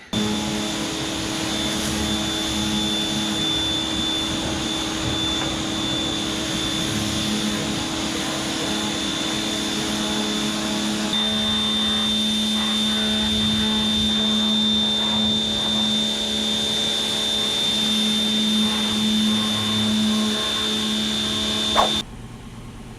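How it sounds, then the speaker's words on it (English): A pressure washer blasts the bed of an old Ford F250 truck, making a steady loud hiss and hum. The tone shifts partway through before the spray cuts off near the end. "So I'm just going to take a minute and pressure wash this box out"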